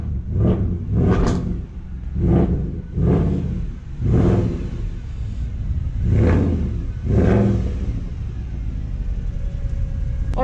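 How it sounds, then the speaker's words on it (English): A Mercedes-AMG car engine starts and revs repeatedly, its deep rumbling swells rising and falling in a steady series of loud, close bursts with no talking. "if you've heard behind me, we've got the AMG starting up"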